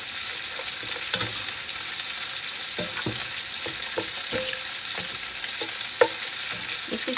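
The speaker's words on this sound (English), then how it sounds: "I'm just gonna give this a mix and let this cook for about 10 minutes" A spoon stirs chicken and soy-sauce soup ingredients in a pot, with soft scraping clinks at irregular intervals over a steady bubbling sizzle.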